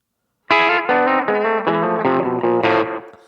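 Closing country guitar lick with fast picking: a fast, slightly distorted run of plucked electric guitar notes with a brief bent phrase near the end, loud and close with no talking.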